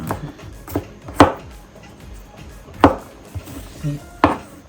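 A knife strikes a cutting board in a few sharp, uneven chops of garlic, close and crisp, with quiet pauses between them.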